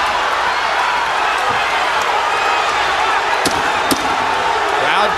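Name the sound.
boxing crowd cheering for Rocky Juarez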